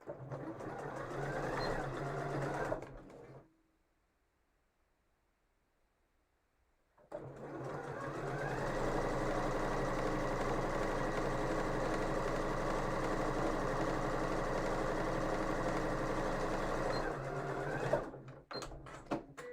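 A sewing machine runs in two bursts while stitching a seam with a 1.5 centimetre allowance, its steady mechanical whirr broken by a short silent pause, then a long continuous run that stops with a few clicks.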